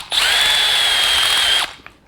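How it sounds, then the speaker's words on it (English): A step drill bit bores through copper, a steady high-pitched whine lasting about a second and a half, close and loud, then cutting off sharply with a small click afterward. "let's use a step bit here. It's just copper. Should drill pretty easy."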